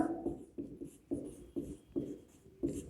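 Writing on a board during a physics lecture, about six short rhythmic strokes, close and clear, with no talking over them.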